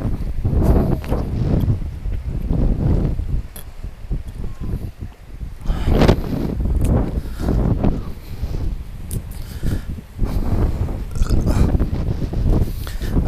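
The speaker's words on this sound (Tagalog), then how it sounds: "napakalakas ng hangin sa taas, oh." Strong gusty wind at a seaside beach buffets the microphone in loud, rumbling surges that rise and fall every second or two throughout, with no one talking.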